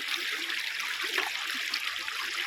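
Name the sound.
flowing water by the waterside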